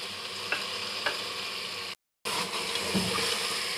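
Meat frying in a pot with spices and two tomatoes for Hyderabadi chicken dalcha, a steady close sizzle with a few soft stirring scrapes and a brief dropout midway.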